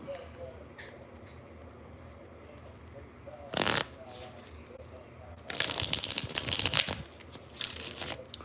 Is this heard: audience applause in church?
no